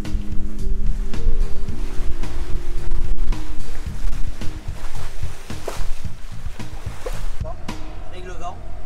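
A boat engine drones steadily with deep, even harmonics at sea on calm water, mixed with washing water noise and faint voices in the background.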